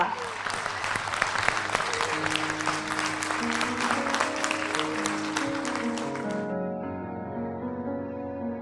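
A live audience at a singing competition applauds loudly and steadily to welcome a contestant, and the clapping stops abruptly as music carries on underneath.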